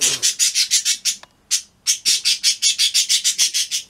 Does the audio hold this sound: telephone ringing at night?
no